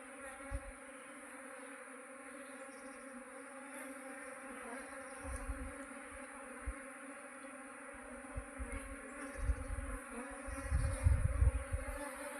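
A honey bee swarm settles into a hive box, a dense continuous buzzing hum of many bees close by, with occasional low thumps and bumps rising toward the end.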